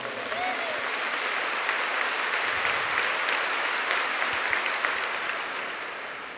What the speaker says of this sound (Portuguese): Give the Lord another clap.